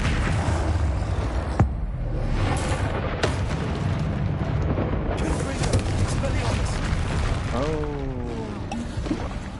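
Confringo fire-blast spell explosions in Hogwarts Legacy on PS5, repeated heavy booms and crackling impacts over a rumbling battle bed, with a few brief voiced sounds mixed in.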